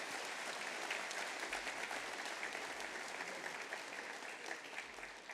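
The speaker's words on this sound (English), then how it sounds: "we could give them a round of applause" A high school class night audience gives a steady round of applause for student athletes, the clapping dense and even throughout, easing off slightly toward the end.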